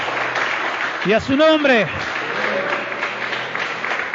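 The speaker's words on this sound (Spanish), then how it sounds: "Dele fuertes palmas a Cristo" A church congregation applauds loudly during a pastor's evening sermon, a steady roar of clapping with a voice speaking over it midway.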